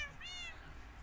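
A cat meows once in the Minecraft video game, a short, rising, tonal call that is moderately clear over a low background hum.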